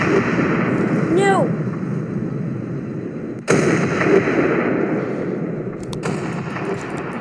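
Ocean liner ship cannons firing in the physics game Ship Crash Physics, a constant rumbling roar of booms with one sharp loud blast near the middle and further rapid cracks later, plus brief game tones.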